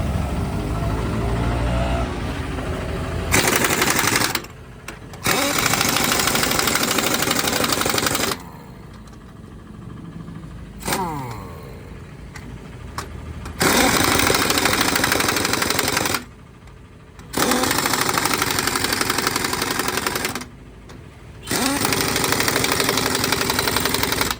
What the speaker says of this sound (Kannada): ಫೈನಲಿ ಟೈರ್ ಫಿಟ್ಟಿಂಗ್ ಆಯಿತು ನಟ್ ಟೈಟ್ ಮಾಡ್ತಿದ್ದೀನಿ